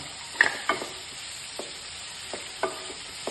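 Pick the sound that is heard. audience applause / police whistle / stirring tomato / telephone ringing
stirring tomato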